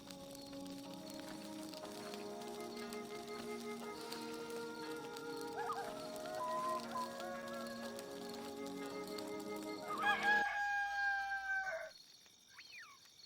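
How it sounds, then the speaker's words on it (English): Rooster crowing in the video game Black & White 2, a loud drawn-out cock-a-doodle-doo rising out of game music and ambient animal sounds. "This rooster wakes me up every single day."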